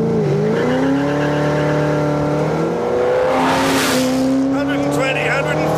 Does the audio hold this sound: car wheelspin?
yes